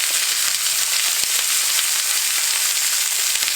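Butter sizzles and fries steadily in a cast iron pan alongside a steak, a dense, loud, even hiss throughout with a few faint pops, no voices.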